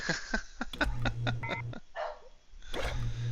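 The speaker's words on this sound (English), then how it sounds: "I apologize about the dog." A dog barks and yips in a quick run of sharp, close calls with short gaps, a brief whimpering sound in the middle, and a voice faintly underneath.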